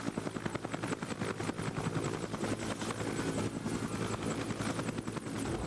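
A Bell helicopter lands nearby, its steady rotor chop thumping in a fast, even rhythm over a loud, dense engine whine that holds without break.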